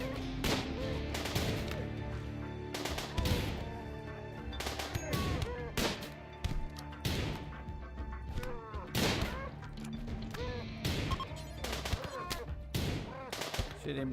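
Gunfire in the video game Rimworld, a battle of repeated sharp shots and bursts scattered across the whole stretch, layered over game music and other sound effects.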